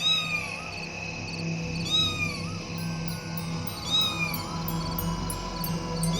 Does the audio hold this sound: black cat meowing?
yes